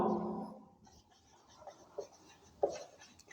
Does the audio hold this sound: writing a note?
yes